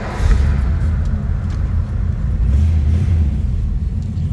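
A 1956 Mercury Montclair Phaeton four-door hardtop's engine runs with a steady deep low rumble, close and fairly loud, with slight surges in level and no talk over it.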